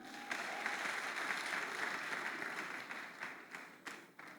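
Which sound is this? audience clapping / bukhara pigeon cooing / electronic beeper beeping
audience clapping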